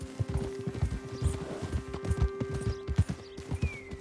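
Horse hooves clip-clop at a steady riding pace in the video game Red Dead Redemption 2, close and prominent, with a low hum underneath and a brief whinny-like tone near the end.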